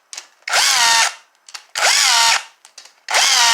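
A power tool with an E12 socket spins out Chevy Cruze cylinder head bolts in three loud, close bursts of about half a second each, its whine rising and steadying as each bolt turns free, with short pauses between them.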